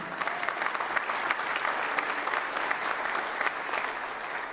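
Church congregation applauding during an evening worship service in Brasília, continuous even applause from a large crowd throughout, moderately distant and without a break.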